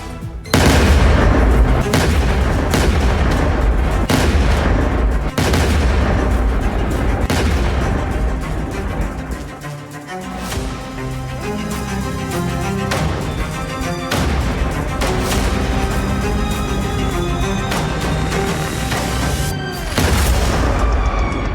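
Repeated heavy booms and blasts from airstrikes on an Iranian military base in Bushehr, loud and dense across the whole stretch, with sharp impacts at irregular intervals over a constant low rumble.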